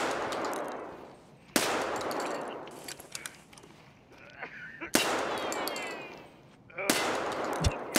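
Shotgun blasts in Escape from Tarkov, fired during the "Setup" quest, likely with Magnum buckshot through a window: a few loud, sharp single reports spaced seconds apart, each with a ringing decaying tail, plus quieter clatter in between.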